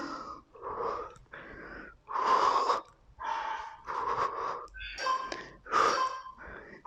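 Heavy, rhythmic breathing during a home HIIT workout: repeated loud wheezing exhales and gasps in steady bursts, close to the mic, with no talk.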